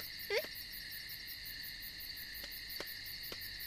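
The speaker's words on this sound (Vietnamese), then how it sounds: "Nhái." Frogs croak at night in the rural countryside of southern Vietnam: a sweeping call and a few short clicks sound over a steady, high insect chorus of crickets, moderately near.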